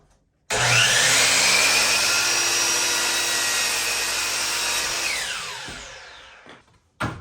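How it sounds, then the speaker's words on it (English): A power saw cuts a wooden header piece to length during a dining room DIY build: a loud, sustained whine runs about six seconds, winds down as the blade coasts to a stop, then a brief final burst. "I'm going to have to cut it to length and then rip it to width"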